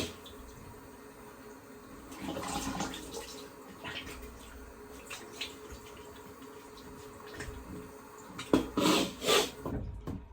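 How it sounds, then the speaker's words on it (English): Water runs and splashes while a OneBlade Core razor and face are rinsed, soft trickling with louder sloshing bursts toward the end, close and fairly quiet. "I'm just gonna do a rinse"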